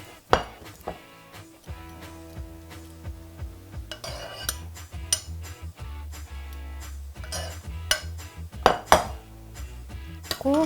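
A whole slab of marinated pork belly is turned over in a pan, producing scattered clinks and clatters of utensils and cookware with a faint sizzle beneath, close up and without talk.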